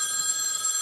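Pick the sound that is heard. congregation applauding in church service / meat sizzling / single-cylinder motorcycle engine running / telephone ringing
telephone ringing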